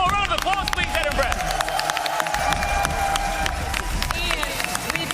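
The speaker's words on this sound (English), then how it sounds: "Can we all just give him one more round of applause, please" Audience applause at an esports LAN event in Edinburgh, a dense crowd of clapping and cheering that holds steady throughout, with a few whistles cutting through.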